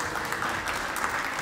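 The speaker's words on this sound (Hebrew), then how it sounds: "מגיע לך כפיים, מגיע לו כפיים" An audience claps steadily throughout, dense even applause filling the whole moment without a voice on top.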